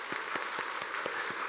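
Church congregation at a Sunday morning worship service applauding, a steady wash of many hands clapping at moderate distance, with a few sharper individual claps standing out.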